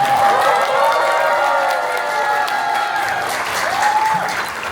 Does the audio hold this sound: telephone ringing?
no